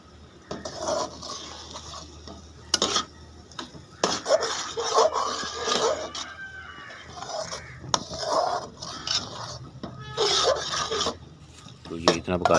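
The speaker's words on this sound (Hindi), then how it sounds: "फिर इसमें आप थोड़ा घी डाल के इसको पका लें" Bread halwa stirred and cooked in ghee in a pot, with steady scraping and rasping strokes of a spoon against the pan in repeated bursts, close and fairly loud.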